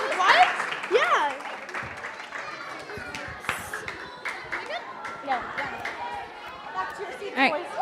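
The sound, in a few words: audience applause for a third grade class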